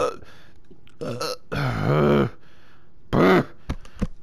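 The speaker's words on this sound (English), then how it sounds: "Horrible burps." A person burps loudly several times while playing Little Nightmares II, with long drawn-out belches separated by short pauses and a few smaller grunting sounds, close to the mic.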